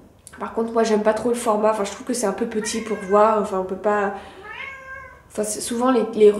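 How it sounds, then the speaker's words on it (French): A hungry cat meows from downstairs, a brief plaintive cry heard faintly in the background while a person keeps talking over it. "Si vous entendez du bruit, c'est mon chat qui miaule là en bas."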